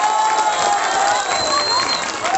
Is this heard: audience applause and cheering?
yes